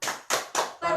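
Four sharp, evenly spaced group claps beat out the rhythm of a children's rights clap chant at a National Family Day event, each clap loud and close.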